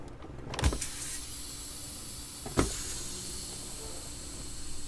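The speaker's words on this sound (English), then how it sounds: "To check for leaks, I would release both of my brakes." Air brakes on a truck being released during a leak check, with two sharp hissing bursts of escaping air a couple of seconds apart over a low steady background hum.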